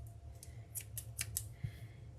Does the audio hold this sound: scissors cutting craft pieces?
yes